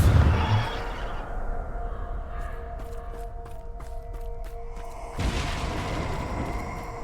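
In Hogwarts Legacy, a Bombarda spell detonates with a deep, loud boom, then a sustained tonal hum lingers until a second blast erupts a few seconds later and keeps rumbling.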